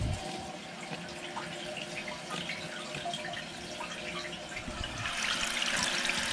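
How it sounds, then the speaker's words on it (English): Water hissing and gurgling steadily as a newly installed toilet tank fills in a barndominium restroom, a close continuous rush that swells louder near the end, with no talking. "Let that water fill up."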